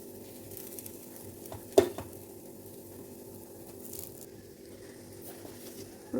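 Cooked rice being mixed with salt and lemon juice in a pan, giving soft, quiet squishing and stirring with a low sizzle beneath and one sharp utensil clink near the start, close by.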